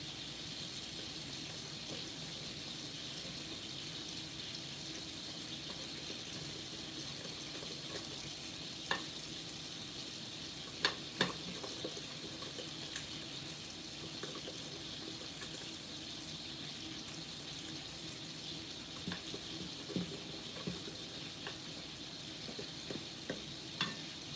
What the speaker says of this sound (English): You're gonna give it a stir.